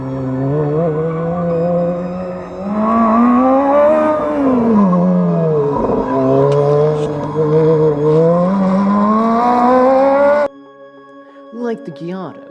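A Ferrari F430's longitudinal rear mid-mounted 4.3-litre V8 howls on a race track, rising and falling through sustained revs for about ten seconds before cutting off abruptly, leaving brief quieter sounds.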